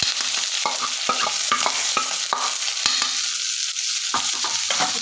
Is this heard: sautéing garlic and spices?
yes